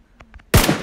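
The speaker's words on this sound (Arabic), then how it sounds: "طلقة واحدة على راسه" A single loud gunshot cracks out in PUBG after a moment of faint clicks, abrupt and close with a short ringing tail cut off by a second blast onset.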